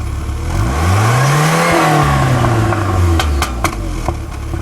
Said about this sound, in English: Oh, nice backfire. Pop, pop, pop.